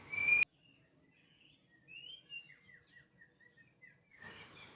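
A white-rumped shama (murai batu) sings a run of varied whistled phrases and chirps at moderate distance, after a short loud burst, with no talking.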